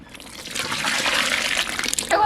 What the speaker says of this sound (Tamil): காயெல்லாம் சாம்பாருக்கு அரை வேக்காடு வந்துட்டு புளி தண்ணி சேர்த்துக்கலாம்